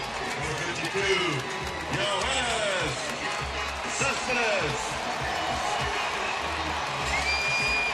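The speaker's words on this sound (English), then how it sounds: "So Cespedes getting a nice round of applause." Crowd at an Angels versus Athletics baseball game in Oakland gives left fielder Cespedes a warm round of applause, a broad, distant wash of clapping and cheering under a commentator talking.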